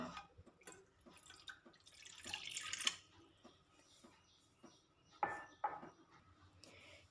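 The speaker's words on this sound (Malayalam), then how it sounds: "അതിലോട്ട് നമുക്ക് ഒരു കപ്പ് വെള്ളം ഒഴിച്ചു കൊടുക്കാം" Water trickles and drips into a tea pot in short bursts, with a louder splashing pour in the middle and a few sharp clinks near the end.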